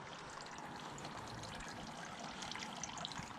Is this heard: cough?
no